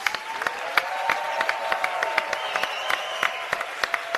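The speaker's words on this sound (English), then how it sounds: "A round of applause for resistance units." Audience applause at a Free Iran convention panel, steady dense clapping from a sizable crowd with sharp individual claps standing out, a faint voice underneath.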